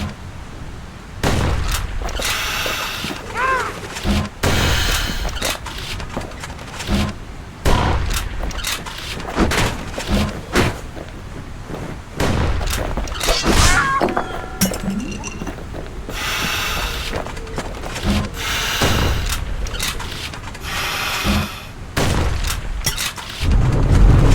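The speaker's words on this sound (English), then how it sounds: "Blam! Just like my fighting days. A gun like that can even put the wilds in check." Gunfire from a gun in the Bastion video game: a rapid series of loud, punchy blasts with ringing, glassy clinks. The shots come in bursts across the whole stretch, with no talking.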